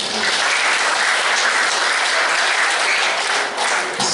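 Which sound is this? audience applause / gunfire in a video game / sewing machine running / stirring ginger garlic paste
audience applause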